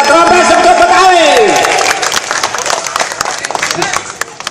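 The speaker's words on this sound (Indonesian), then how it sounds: "Mana tepuk tangannya buat rompes seperti Betawi" An audience applauds and cheers for the Rompes Si Pecut Betawi martial performance at a festival stage, with a dense crowd of clapping under loud talk from a host that tapers off toward the end.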